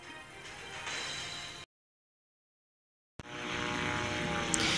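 Reggiane Re 2005 fighter plane engine in the video game Sky Gamblers Storm Rider, a steady propeller drone with a tonal hum, interrupted by a brief dead-silent gap before resuming.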